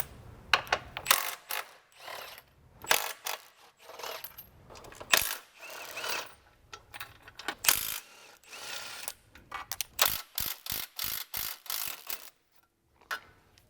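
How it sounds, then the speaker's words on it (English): A ratchet loosens subframe bolts on a BMW E90 M3, giving bursts of sharp metallic clicking and clattering in uneven runs, close and fairly loud, with short pauses between strokes. "So for these forward bolts, I'm just going to loosen them"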